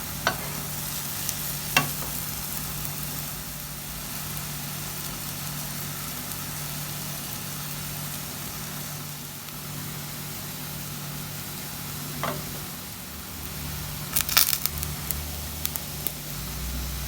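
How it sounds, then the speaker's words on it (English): Fish steams in a little oil in a covered pot, giving a steady, soft sizzling hiss throughout with a few faint clicks and clatters. "Fish is steaming."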